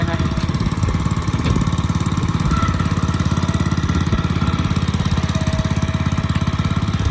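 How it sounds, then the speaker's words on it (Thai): A Kubota TR60 walking tiller's engine runs steadily in gear, a loud close chugging drone with fast regular firing pulses throughout. "นี่ยิ่งเร่งเครื่องก็จะยิ่งเร็วนะคะ"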